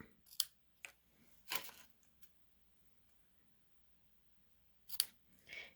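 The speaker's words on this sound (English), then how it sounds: "And then just snip it just a little bit." Scissors snipping stamped paper card while making cards: a handful of sharp, close snips come separately at irregular moments, with near-silent gaps between them and no talking.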